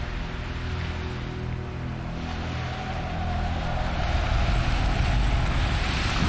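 Ocean waves and wind wash against the shore as a fleet of wooden Viking ships approaches by sea near Lindisfarne, a steady rushing surf with low rumbling that swells louder in the second half.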